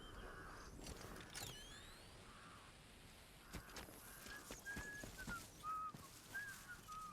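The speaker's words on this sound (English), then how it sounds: "Who's whistling? Is there someone in the maze?" A short whistled melody drifts from inside a hedge maze in the video game Atomfall, a few rising and falling tones in the second half over rustling ambience and scattered clicks.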